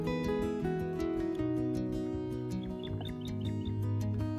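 Birds call and chirp outdoors in a rural Philippine setting, short repeated tweets over a steady layered background hum, fairly faint.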